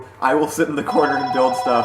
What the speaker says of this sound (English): That is the phone that is on my desk